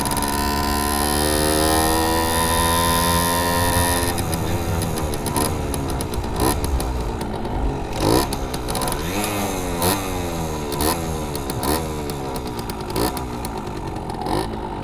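A Simson S51 moped engine while riding, a loud buzzing two-stroke note that holds steady, then rises and drops repeatedly as the revs climb and fall through the gears, with no talk over it.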